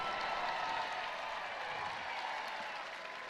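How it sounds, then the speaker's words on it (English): Baseball crowd at a Friday night MLB game between the Angels and Royals in Kansas City applauding a fan's catch in the stands; a broad, steady wash of clapping and crowd noise that slowly eases off. "Oh, really nice applause for the fan."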